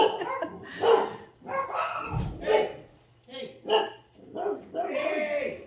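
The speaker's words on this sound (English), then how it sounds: "We just had delivery. The dog went after her." A dog barks repeatedly in short bursts at a delivery person at the door, the barks loud and close, mixed with a person talking over them.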